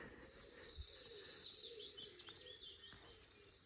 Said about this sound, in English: Is that a willow warbler, I think?